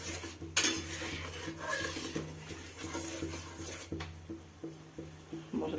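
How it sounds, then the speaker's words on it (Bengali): Turmeric and chili powder spice paste with a little water being stirred and fried in a pan, with a utensil scraping and clinking against the metal in a steady, close rhythm and a faint sizzle underneath. "মশলাটাকে ভালো করে কষিয়ে নেব এখন"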